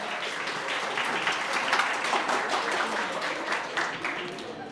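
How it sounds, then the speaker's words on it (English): Audience applause welcoming a panelist at a youth dialogue event, a steady round of many hands clapping, moderately loud and continuous throughout. "Let's welcome him with a big round of applause."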